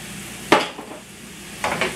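Oil sizzling in a frying pan beside cooking vegetables while making a Philly cheesesteak, heard as two short bursts of sizzle and stirring against quiet background.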